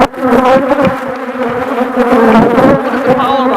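Honeybees at an organic, treatment-free small-cell beehive, a loud close swarm of buzzing with wavering pitch as individual bees pass near, continuous throughout.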